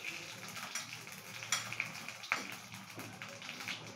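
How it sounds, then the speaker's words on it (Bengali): Dried red chillies and panch phoron crackle and sizzle in hot oil, a close, faint frying hiss broken by small pops and taps. "এরপরে মা দিয়ে দিচ্ছে এর মধ্যে শুকনো লঙ্কা ফোড়নে, আর দেব পাঁচফোড়ন।"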